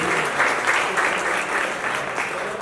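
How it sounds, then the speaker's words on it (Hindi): An audience at the Realme 14T phone launch event applauds steadily and loudly throughout, a dense, even wash of clapping with no break. "जोरदार तालियां बजा दीजिए"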